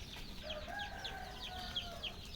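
Chickens and chicks in a poultry shed give a steady stream of repeated high peeps and short clucks, close by and moderately loud, with no talking.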